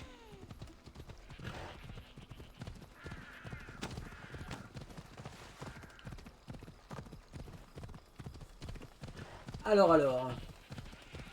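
Horse hooves clip-clopping at a quick, steady rhythm in the video game Assassin's Creed Odyssey, with a brief whinny near the end and someone talking over it.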